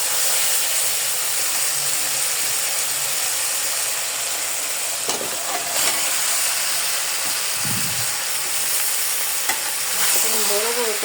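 Potatoes fry in a cooked-down masala of chilli powder, garlic paste and onion for a mutton curry, giving a steady, close sizzle with occasional scraping and stirring clatter throughout, no voices.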